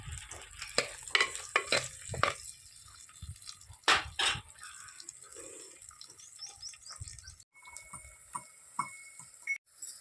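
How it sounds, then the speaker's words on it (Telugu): Green chillies and onions sizzle softly in oil for an Andhra-style country chicken curry, with sharp scraping stirs of a spatula against the pan in the first seconds and then a quieter intermittent crackle. "ఇప్పుడు పచ్చిమిరపకాయ ఉల్లిగడ్డ వేగిపోయినాయి"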